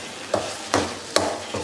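A spoon stirring thick lentil poli filling as it cooks down in a pan, giving four evenly spaced scraping knocks against the pan over a low steady background, close up and with no talk.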